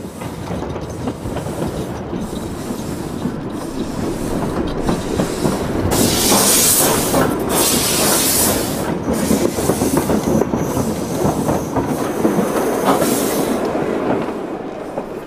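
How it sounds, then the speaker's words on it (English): A steam locomotive rolls steadily along the rails with a continuous rumble and rhythmic clatter, swelling louder midway with bursts of steam hiss, no voices. "It's a loco. It's a proper steam engine."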